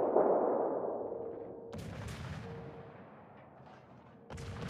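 Naval gunfire in World of Warships, with a destroyer engaging: heavy artillery booms rumble out and decay, followed by further sharp shots and a low tone under the rolling echo, at moderate loudness.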